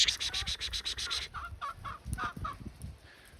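A rapid run of high, rhythmic chirping calls gives way to chickens clucking in short, separate bursts, close by over a low background.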